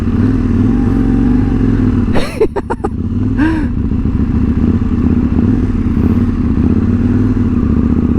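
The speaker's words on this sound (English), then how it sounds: "tinatry ni Cesar yung Ninja 650 ko, at itatry ko din yung ano niya, itong KTM niya" KTM motorcycle engine idling with a loud, close, low rumble, interrupted by a brief burst of clattering mechanical clicks before settling back into a steady, throbbing idle.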